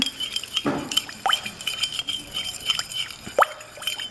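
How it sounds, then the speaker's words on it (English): A spoon stirs sauce in a bowl for a chicken lettuce wrap, giving repeated light clinks and taps against the side in an irregular rhythm, close and fairly quiet. "And then I'm gonna stir that up."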